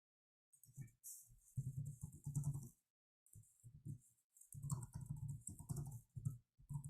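Fingers typing on a computer keyboard in bursts of quick clicking keystrokes separated by short pauses, close and fairly soft, with no talking.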